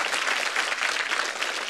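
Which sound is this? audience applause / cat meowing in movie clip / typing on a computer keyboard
audience applause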